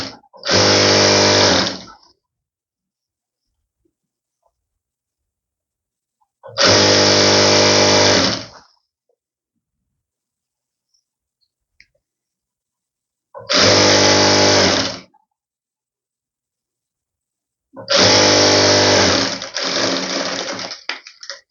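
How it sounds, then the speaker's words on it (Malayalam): A sewing machine stitches a pleated nightie skirt piece in four loud, steady bursts of about two seconds each, separated by silent pauses. "ഇതേപോലെ 1/2 ഇഞ്ച് ഇട്ട് താഴേക്ക് വരെ നമ്മൾ സ്റ്റിച്ച് ചെയ്ത് കൊടുക്കാം കേട്ടോ"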